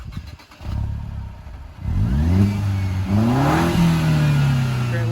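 A Mercedes C250 engine with the muffler unhooked, straight-piped, idles with a rough low rumble, then revs up loudly in a couple of rising pulls before settling into a steady, throaty drone close by, with no talk.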